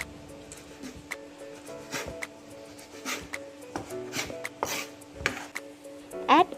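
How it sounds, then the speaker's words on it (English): A knife chops raw chicken breast into small cubes on a cutting board, crisp taps coming in irregular bursts at close range with no talking. "we need a chicken breast and cut in small cubes"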